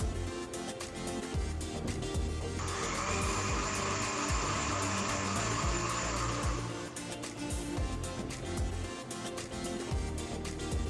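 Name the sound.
mixer grinder making paste of onion, coconut, coriander, ginger, garlic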